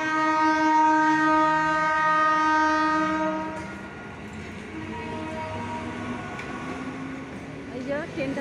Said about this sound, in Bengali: ট্রেনটা যাচ্ছে দেখো